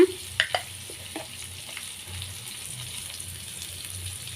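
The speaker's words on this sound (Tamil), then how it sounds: "அப்படியே வதக்குங்க" Chayote sautéed with turmeric and salt in a pan, a few sharp utensil clinks at first, then a steady close sizzle with light stirring scrapes.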